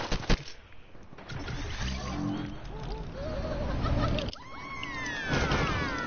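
Rapid bursts of automatic gunfire from an online shooter game crackle steadily and densely, with in-game sounds and some voices mixed underneath.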